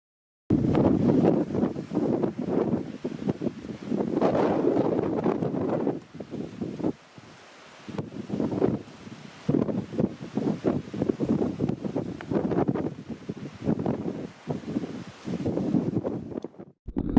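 Wind gusts buffet the microphone in loud, rumbling waves, easing briefly before roaring again.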